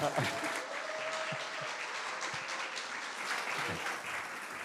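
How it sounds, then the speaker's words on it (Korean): A church congregation applauds to welcome a pastor forward, an even, moderately loud patter of many hands with a few sharper claps standing out. "저만큼 뜨거운 박수로 맞이해 주시기 바랍니다."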